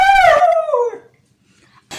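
An Aspin dog gives a drawn-out, howl-like vocal that slides downward in pitch, mimicking the phrase "I love you," loud and close for about one second, followed by quiet.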